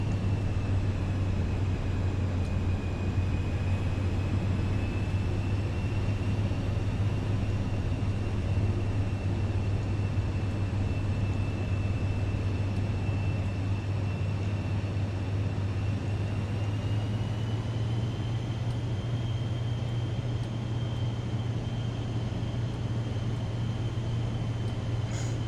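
A Vision Jet in Microsoft Flight Simulator 2024 cruises with its engine throttled back, giving a steady, continuous low drone with a faint high whine held evenly throughout, no voices.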